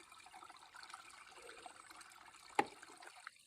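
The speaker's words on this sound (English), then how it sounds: "So I make sure I fill it from the running water" A water bag being filled from a running stream in the wilderness, heard as a faint, steady trickle and gurgle with one brief clunk or splash late on, no speech.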